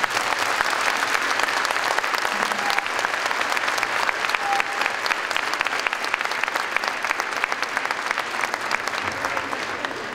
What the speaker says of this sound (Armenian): Ես խնդրեմ ջերմ ծափահարություններ։